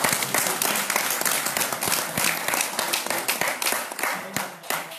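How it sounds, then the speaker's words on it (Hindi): Audience clapping at a devotional gathering honoring someone who distributed Jagannath prasad, dense continuous applause with sharp individual claps standing out, sustained for the full length and fading slightly near the end. "इनके लिए ताली बजा दो।"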